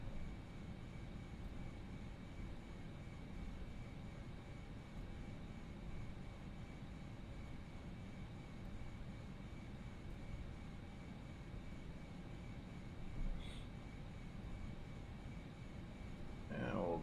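Steady, low engine drone of an FSLabs Airbus A319 taxiing in the Prepar3D flight simulator, a continuous broadband rumble at even loudness throughout, with a brief brighter blip near the end.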